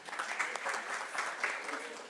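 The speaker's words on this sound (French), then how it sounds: "Vous pouvez les applaudir." An audience at the launch event for CARE's national dashboard gives a round of applause for a panel, a fairly soft, steady patter of many hands clapping in a hall.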